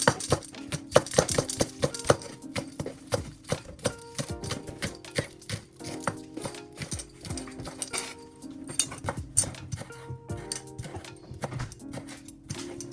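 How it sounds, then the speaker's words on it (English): A knife chops spring onions and dill for a pasta salad in quick, steady rhythmic strikes on a board. The chops sound close and crisp over a faint tonal background, with no speech. "I'm also going to chop up some spring onions and some dill"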